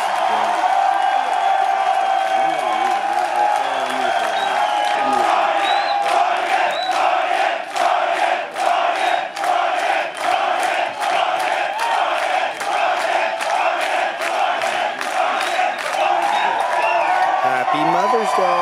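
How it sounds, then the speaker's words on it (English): Concert crowd at a show at the Palladium in Times Square, New York City, cheering, whooping and clapping loudly and continuously, with rhythmic chant-like pulses running through the roar. "Great crowd."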